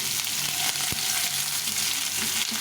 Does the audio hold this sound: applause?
no